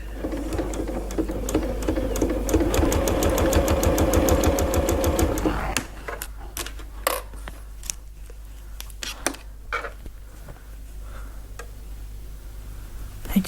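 A sewing machine fitted with an HD foot stitches along a fabric edge for a bag project, a fast even whirring run of stitches for several seconds. It then stops, leaving scattered light clicks and handling noises.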